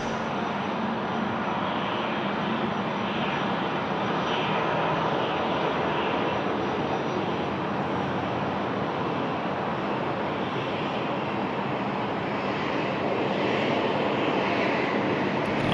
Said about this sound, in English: the Hawker 850, and she's packing some speed there on the ground taxi